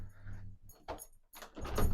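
Handling and rattling of a balcony door in a seaside holiday apartment as someone tries and fails to open it, a few separate clunks and rattles close by, the last burst louder and longer.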